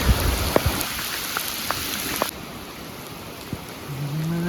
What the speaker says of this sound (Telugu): వర్షం అయితే చాలా గట్టిగా పడుతుంది.